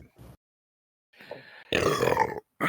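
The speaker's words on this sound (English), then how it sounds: "For a second there, I thought that was the guy burping." A burp, a guttural voiced belch lasting about a second near the end, following brief faint vocal noises with gaps of silence between them.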